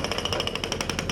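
A jackhammer breaks up old pavement during sidewalk repair work at a small market, hammering loudly and close in a rapid continuous rhythm with no talk.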